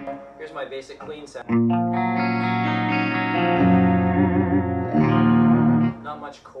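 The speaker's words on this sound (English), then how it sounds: "Not much chorus, a little bit of delay, a little bit of reverb." Electric guitar played with a clean tone through an Axe-Fx rig with light chorus, a little delay and reverb, starting with quick picked notes before ringing sustained chords that blur together, with talking over it.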